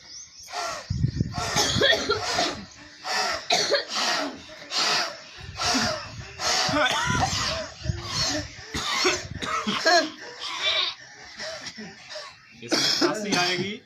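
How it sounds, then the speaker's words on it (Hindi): Repeated harsh coughing and throat-clearing bursts in a long series, close and loud, with short gaps between them. "इसमें खांसी आएगी, जरूर आएगा खांसी।"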